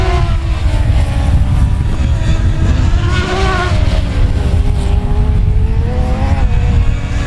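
Race cars at South Texas Speedway howl through the final lap, several engines rising and falling in pitch as they pass, loud and continuous with overlapping revving.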